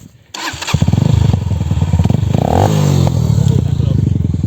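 A Romet K125 motorcycle engine kicks into life and runs with a rapid, loud, close-up chugging idle.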